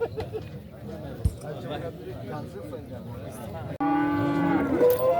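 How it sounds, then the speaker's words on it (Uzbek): At a busy livestock market, a cow lets out a long, loud moo near the end, after a stretch of crowd chatter and a voice. "Shu sigirimiz."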